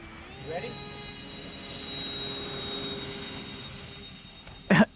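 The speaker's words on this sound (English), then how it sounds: "Is that a float plane?" A float plane's aircraft engine drones at a distance, a faint, steady hum rising slightly in the middle, with a brief loud knock near the end.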